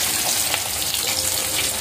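Hilsa fish fry in hot oil, a steady close hiss and crackle of sizzling with small pops scattered throughout.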